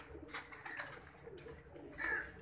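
Pigeons coo softly in a brief burst, with faint fluttering and rustling nearby, no voices.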